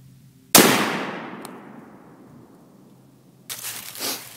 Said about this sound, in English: Alright, that was the third shot.